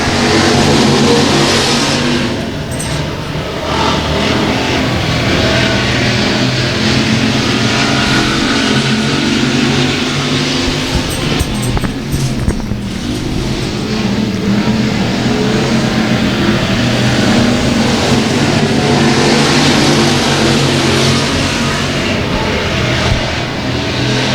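Dirt-track race cars roar together in a heat race at Boyd Raceway right after the green flag, a loud, sustained wall of engine noise with revs rising and falling close by throughout.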